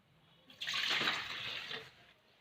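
Milk pours from a glass in a short, steady splashing stream for banana milk juice, lasting just over a second before tapering off, close and fairly quiet.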